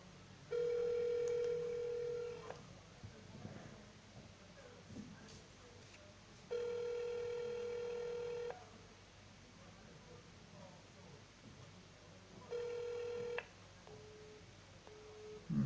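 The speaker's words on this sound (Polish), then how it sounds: "spróbujemy zadzwonić bezpośrednio przez telefon" Three long bursts of steady, evenly pulsed phone tones ring out clearly in a quiet room as a call is placed directly by telephone, with faint movement and soft background noise between them.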